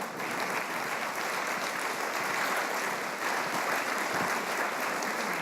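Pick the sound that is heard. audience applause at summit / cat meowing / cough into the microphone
audience applause at summit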